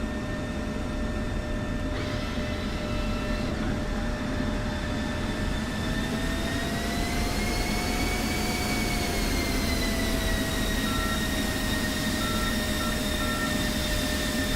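An F-16 Viper taxis off the runway at Anderson Airfield in DCS World 2.9, its jet engine a loud, steady roaring drone with a high whine that bends up and back down midway, with no talking.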